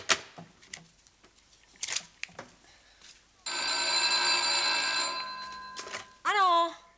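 An old-style telephone bell rings loudly for about two and a half seconds in a domestic scene, followed by a short warbling tone, with people talking before and after.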